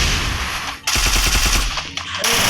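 Rapid automatic gunfire in the Free Fire video game, a loud close burst of evenly spaced shots followed by a second short volley.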